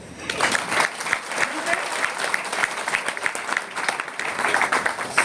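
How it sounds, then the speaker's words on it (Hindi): An audience claps together at a talk, a sustained and lively burst of applause filling the room from start to finish. "एक बार ताली बजाओ"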